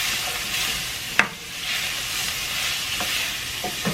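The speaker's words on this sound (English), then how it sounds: "Just give it a little stir." A spoon stirs red beans with herbs and garlic in a pot, with a soft sizzling bed and a few sharp clinks of the utensil against the pot, close and fairly quiet.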